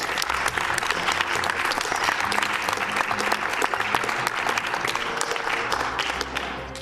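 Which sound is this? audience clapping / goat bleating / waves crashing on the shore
audience clapping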